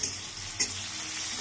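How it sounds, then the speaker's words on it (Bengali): Onions frying in oil until brown for an egg biryani, a close, steady bright sizzle with one quick stirring scrape early on. "পেঁয়াজগুলোকে ব্রাউন কালার করে ভেজে নেবো।"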